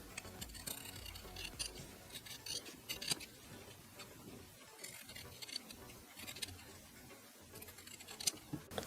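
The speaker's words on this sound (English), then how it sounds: "you grab your scissors and then cut" Scissors snip through felt fabric in a series of quick, close, irregular clicks and cuts, fairly quiet, with small handling noises between them.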